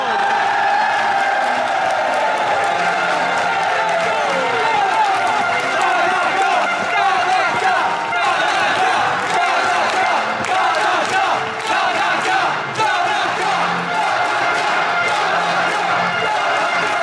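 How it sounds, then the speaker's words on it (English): A capacity crowd at a Masato Tanaka vs Mirko Mori wrestling match, everyone on their feet, roars and cheers steadily throughout, a dense loud wash of voices with shouts rising from the mass. "And just witness this capacity crowd. Everyone on their feet."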